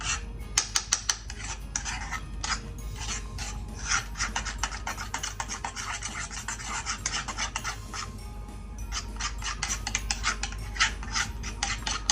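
A spoon scrapes and rasps in a small bowl while rice powder and aloe vera are mixed into a face mask, a close, dense run of quick gritty strokes and light clicks, with no talking.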